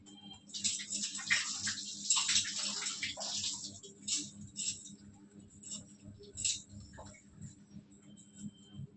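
Hands being rinsed under running water from a tap, a steady wash of splashing with brief louder bursts, close by, with a voice talking underneath and faint background noise.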